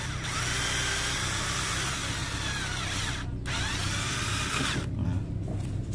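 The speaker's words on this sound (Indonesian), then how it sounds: "nah kita bor gini ya lubangin" A power drill runs continuously and loudly up close, grinding steadily as it bores holes into a car battery, with two brief dips in pitch.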